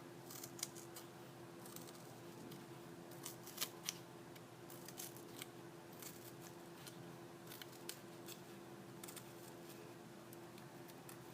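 Quiet, irregular snips and crunches of scissors cutting through stiff cardboard, short bursts scattered over a low steady background hum.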